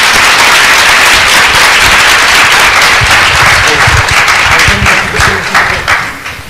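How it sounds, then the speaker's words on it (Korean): A loud audience bursts into applause for speaker Heo Jin-ho at a Korean developer conference, DevOn 2011; dense, close clapping holds strong for several seconds before thinning and tapering toward the end. "허진호님 다시 한번 박수를 주시면 대단히 감사하겠습니다"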